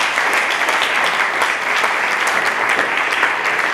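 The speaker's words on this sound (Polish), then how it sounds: "Wielkie brawa." Loud, dense applause from the audience follows a speech at a graduates' debate, a close, continuous wall of clapping with no voices breaking through.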